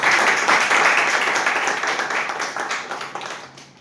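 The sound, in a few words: audience round of applause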